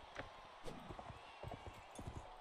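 Quiet horse hooves in Mount and Blade Warband, a rhythmic clip-clop of galloping strikes in an even pattern, faint and in the background, with brief speech.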